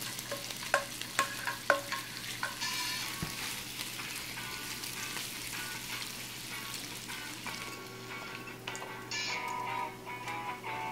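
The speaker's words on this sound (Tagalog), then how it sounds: "Ilalagay po natin ito sa ating preheat na sizzling plate" Pork sisig sizzling on a preheated sizzling plate, a steady crackling hiss with some sharp ticks and clinks of utensils early on, close and continuous without any talk.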